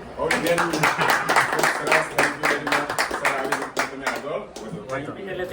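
Applause and clapping for a doctor at a family function, a dense run of many hands clapping close by throughout, with voices talking and cheering over it.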